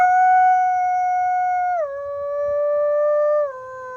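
A person imitates a coyote howl, a long sustained wavering tone that steps down in pitch twice, clear and close.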